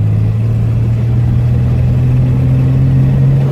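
A 1982 Chevrolet S-10 pickup with a swapped-in V-8 engine, driven after nineteen years off the road, gives a loud, steady low engine drone that rises slightly in pitch partway through, with no talking.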